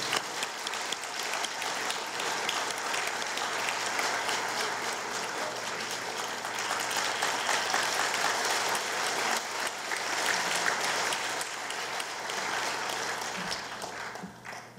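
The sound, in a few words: audience applause at honorary doctorate ceremony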